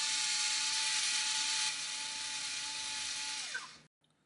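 A power drill bores into an electric guitar body to fit a pickup, a loud steady high whine that drops in pitch as the bit slows near the end and then cuts out.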